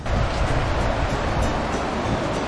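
A rushing river in Sapphire Valley, western North Carolina, running high after rain, a dense steady broadband roar of flowing water that stays loud and unbroken throughout.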